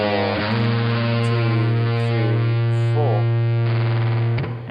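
An electric guitar through heavy distortion plays a riff, with sustained, buzzing notes bending under vibrato, a short quick run of notes, and a final chord that cuts off.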